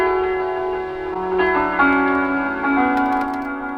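A sustained tonal sample with layered harmonics that swells and fades, with echoing delay repeats trailing each note.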